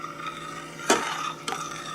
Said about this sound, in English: We're just going to keep stirring this until it gets thick.